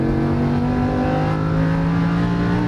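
Lamborghini Huracan LP610 accelerating at full throttle on a race track, a loud, close, continuous engine roar with a steady, slightly rising pitch and no talking.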